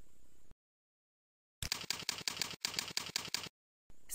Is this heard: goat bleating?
no